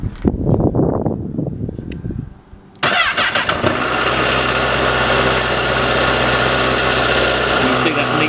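A cold Honda CBR1000RR Fireblade motorcycle engine cranks and fires up, then settles into a loud, steady idle, with a person talking briefly just before it starts.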